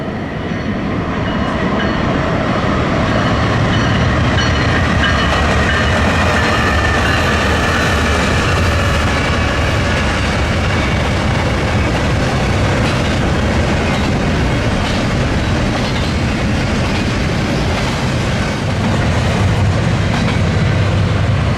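Freight train 22M bound for Morrisville, Pennsylvania, led by a pair of -9 locomotives, rolls past close by on the Chicago Line, a steady loud rumble with rhythmic wheel clatter sustained throughout.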